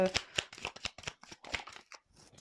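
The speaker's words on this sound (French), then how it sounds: "Allez, je prends une dernière carte" Tarot cards being handled and drawn from a deck, a close series of quick papery flicks and slides with a soft voice faintly underneath.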